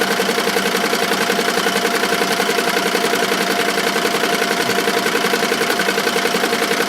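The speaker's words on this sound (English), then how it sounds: "So this is literally like embroidering a patch onto this t-shirt." An embroidery machine stitches a patch onto a 100% cotton t-shirt, making a steady, loud, rapid mechanical chatter with a fast even rhythm that continues throughout.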